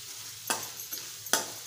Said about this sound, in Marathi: अर्धा चमचा धना पावडर, पाव चमचा गरम मसाला आणि छान एकजीव करून घ्यायचं आहे